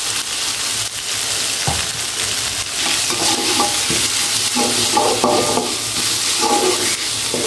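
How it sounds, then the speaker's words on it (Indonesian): Bay leaf, lime leaf, galangal and lemongrass sauté in hot oil, a loud continuous sizzle broken by repeated scraping stirs of a spatula against the pan. "Ditumis sampai wangi."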